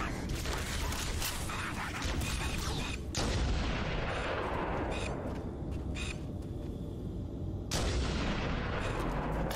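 Gunfire in Halo: Combat Evolved, dense rapid shots in loud repeated bursts with booming impacts, steady and close throughout.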